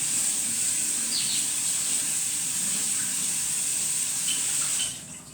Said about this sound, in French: On va venir rincer.